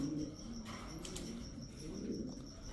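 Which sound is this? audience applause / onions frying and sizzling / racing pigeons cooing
racing pigeons cooing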